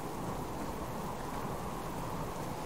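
Steady rain and rumbling thunder from stormy weather in the survival video game Subsistence, a dense continuous wash of rainfall with a low rolling undertone, heard alone without talk.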